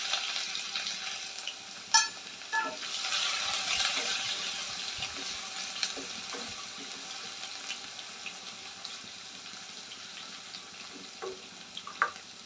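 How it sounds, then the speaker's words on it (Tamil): Smashed garlic cloves with cinnamon, cloves and fennel frying in hot oil for a bottle gourd kootu, a close, steady sizzle with occasional stirring clicks and scrapes of a utensil against the pan. "பூண்டு நல்லா வதங்கட்டும்."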